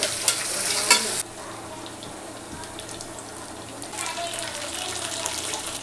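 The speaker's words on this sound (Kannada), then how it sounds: "ಇವಾಗ ಕರಿಬೇವು ಹಾಕೊಳತ್ತೀನಿ. ಹಸಿ ಮೆಣಸಿನ್ಕಾಯಿ ಹಾಕೊಂಡೆ. ಉಳ್ಳಾಗಡ್ಡಿ ಹಾಕೊಂಡೇನಿ ರೀ." Curry leaves, green chilli and onion sizzle in a hot pan, with a loud splattering burst at the start, then a softer steady fry and scraping stirs that build again toward the end.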